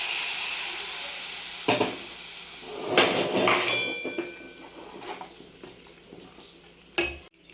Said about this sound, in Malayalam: കറിയിലേക്ക് കടുക് ഒഴിച്ച് കൊടുക്കാം